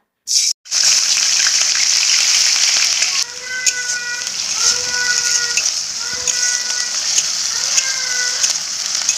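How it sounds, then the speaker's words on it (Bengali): Onion paste fries in hot oil with a loud, steady sizzling hiss, briefly interrupted at the start, then continuing under faint tonal background sounds. "পেঁয়াজ ভাজা হয়ে গেছে,"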